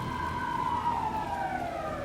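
A police car siren in the video game Alan Wake II wails in a slow descending sweep, fairly quiet and somewhat distant over a low background rumble.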